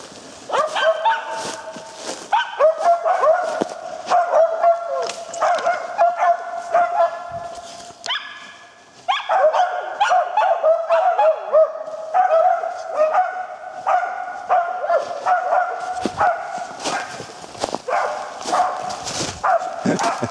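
Laika hunting dogs barking in pursuit of a squirrel outdoors, a continuous stream of loud, rapid barks and yelps with a short pause midway, with faint voices under the barking.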